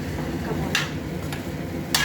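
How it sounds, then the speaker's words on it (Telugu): Veg fried rice is tossed and stirred in a pan, with a low, steady scraping shuffle and a few brief sharp scrapes or clinks of the utensil against the pan's side. "అయితే ఇప్పుడు ఈ రైస్ని మంచిగా మిక్స్ చేయాలన్నమాట."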